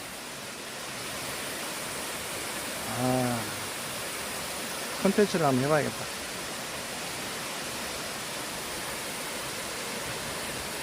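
Steady rushing roar of Jaein Waterfall in Yeoncheon, with water pouring continuously and evenly from start to end while a person speaks briefly over it.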